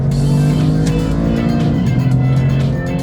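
Two cars, a VW Golf R and a GR Corolla, roar loudly and steadily at close range as they launch together in a drag race, engines droning with a pitch that shifts midway.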